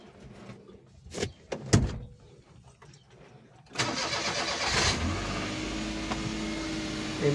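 A Suzuki DA63T 4WD sits quietly while a few sharp clicks and knocks sound, then its engine cranks and catches, settling into a steady, close idle with a low hum.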